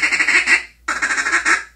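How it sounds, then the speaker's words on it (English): A Buck Gardner Mainstreet duck call blown as a feed call, two bursts of rapid rolling clucks separated by a short pause, close and loud with no talking. "It'll double clutch, and it's a super easy feed call."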